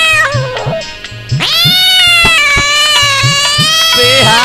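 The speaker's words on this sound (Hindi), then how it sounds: "इधर शिषपाल के घर में बिल्ली भी रो रही है।" A cat cries and meows in long, loud, wavering wails close by, over a steady rhythmic drum beat and musical accompaniment.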